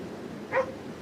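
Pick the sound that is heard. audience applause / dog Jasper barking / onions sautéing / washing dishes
dog Jasper barking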